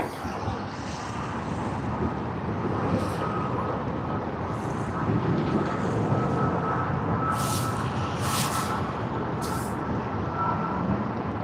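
Virgin Australia Boeing 737 MAX 8 on its takeoff roll at Sydney Airport, a loud steady broadband jet roar heard from a distance, with a few brief high-pitched bursts near the end.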